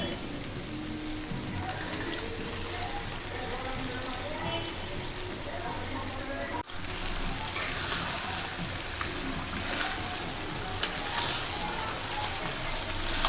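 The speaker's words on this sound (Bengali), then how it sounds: "তেল ছেড়ে এসেছে তো আমি একটু নেড়ে ছেড়ে এবার দিয়ে দেব ভাজা চিকেনগুলো" Pieces of already-fried chicken go into hot oil for chicken chaap, giving a steady, close, broadband sizzle that runs unbroken with a brief dip partway through.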